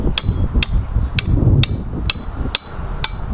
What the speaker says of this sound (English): Take your big hammer and just tap this.